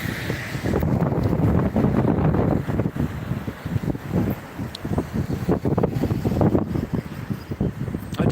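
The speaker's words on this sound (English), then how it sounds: "I do know that it's windy and cold out here" Cold wind blowing outdoors, gusting against the microphone in loud, buffeting rumbles with brief lulls, rough and close throughout.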